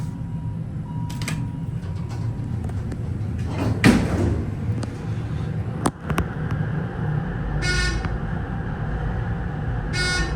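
Heavy Dover traction elevator doors rumble and scrape roughly open and shut with a couple of sharp knocks, followed by two short buzzing chimes near the end.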